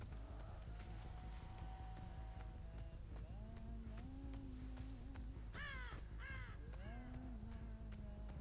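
Crows cawing in the Dead by Daylight video game, several hoarse caws scattered over a steady low ambient rumble, with a few louder overlapping calls near the middle.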